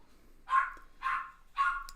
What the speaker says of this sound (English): They're good watchdogs, that's for sure.